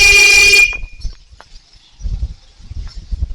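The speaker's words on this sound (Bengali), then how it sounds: "হর্ন একদম হু হু করে বাজছে" A motorbike horn blares loudly and steadily for about half a second, then cuts off, leaving faint low rumbling and scattered background thumps.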